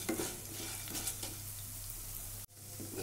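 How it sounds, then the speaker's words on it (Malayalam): Coriander seeds frying in oil and stirred in a pan, a steady close sizzle with scraping stirs that cuts out abruptly near the end, then resumes briefly. "അപ്പോൾ ഈ എണ്ണയിൽ തന്നെ ഈ മല്ലിയൊന്ന് വറുത്തെടുക്കാം."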